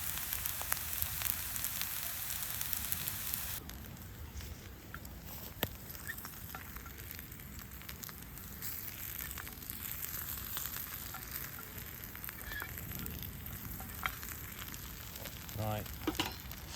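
Dryad's Saddle mushrooms frying in a pan, a steady close sizzle that goes on throughout with faint crackles, quieter after the first few seconds; no talking.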